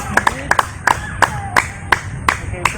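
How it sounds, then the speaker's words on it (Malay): Students in a school ball-reception class clap for themselves in a sparse, uneven run of about nine sharp claps from a small group, with light voices in between. "Berikan tepukan bagi diri sendiri."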